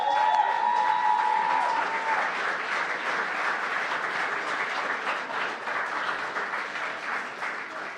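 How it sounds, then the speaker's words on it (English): A warm, steady round of applause from an audience at a student guild election results night for the candidates, dense and continuous, with a brief tone at the start and faint crowd voices. "Can we please give a warm round of applause to all the candidates for their hard work campaigning over the last 4 days?"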